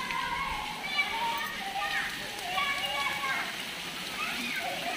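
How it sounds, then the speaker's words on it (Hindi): Rain falls steadily with splashing and sloshing water while children play and shout nearby, and the patter continues under their voices throughout. "इधर बहुत बारिश है"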